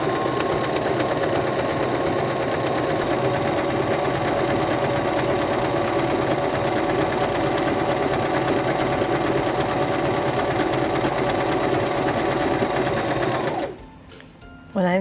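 A Singer Start 1306 sewing machine stitches fabric in a steady, continuous mechanical whir at close range for about thirteen seconds, then stops abruptly, leaving a brief quiet before a faint clunk.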